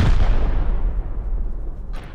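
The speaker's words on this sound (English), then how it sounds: "Oh, they're C4ing." C4 charge detonating in the video game Rust, a single heavy boom with a deep rumbling tail that fades over about two seconds, followed by a faint sharp crack near the end.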